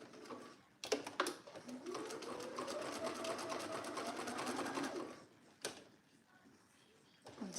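A domestic sewing machine stitches in a steady whirring run of about four seconds, with a couple of clunks before it and another short burst after, set in a home sewing room.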